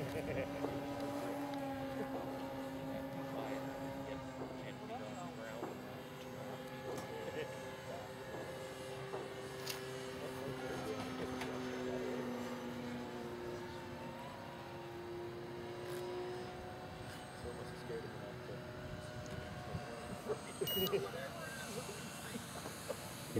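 An RC model airplane comes in to land on a grass strip at a club field, its faint engine buzz sliding down in pitch as it descends, with quiet voices nearby.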